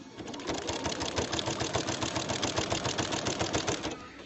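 A sewing machine stitches cloth pads in a fast, even, rapid-fire clatter that runs steadily at close range for about four seconds, with no talking over it.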